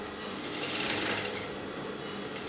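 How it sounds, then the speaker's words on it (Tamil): A sewing machine runs a fast, continuous stitch along a placket neckline seam with a mandarin collar, a close steady whirring and clatter that swells briefly in the middle. "அந்த பாயிண்ட் வரைக்கும் நம்ம தைக்க போகிறோம்"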